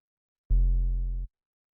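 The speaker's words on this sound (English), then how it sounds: "It's just a triangle wave." A single smooth, warm synth bass note with a mellow triangle-wave tone, held for under a second before cutting off cleanly into silence.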